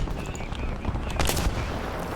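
A tank's roof-mounted machine gun on a Panzer III N in War Thunder rattles off rapid bursts of fire, loud and near, with sharper cracks punching through around the middle.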